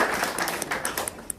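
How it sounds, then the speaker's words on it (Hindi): Applause welcoming guests, NSG commandos and local figures, at a BJP joining event in Nowshera: a steady, fairly loud patter of many hands clapping with sharper individual claps standing out, no voices over it. "जोरदार तालियों के साथ इनका स्वागत करें"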